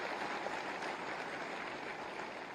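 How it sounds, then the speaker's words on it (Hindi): Applause from an audience welcoming dignitaries seated on stage at a government job appointment-letter event, a steady, fairly faint patter of clapping with no pauses. "एक बार जोरदार तालियों से आप मंचासीन समस्त महानुभावों का स्वागत करें।"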